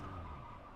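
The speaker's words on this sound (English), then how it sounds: "Did he just lock up his front tire?" Brief tire skid from a locked front wheel on a Mazda MX-5 Cup race car in iRacing, a short scrubbing screech over engine drone, fairly faint and alone.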